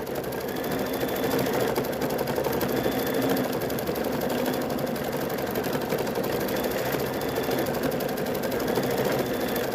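An embroidery sewing machine stitches a quilting design in a 5x7 hoop, giving a steady, fast mechanical whir and rapid needle clatter that runs continuously at an even level from start to finish.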